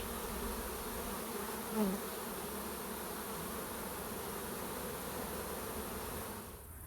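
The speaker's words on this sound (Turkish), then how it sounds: "Arılar çevreyi tanıma uçuşu yapıyorlar." A dense, steady drone of many honeybees buzzing and flying around their hives close by on orientation flights, continuous throughout with no voices.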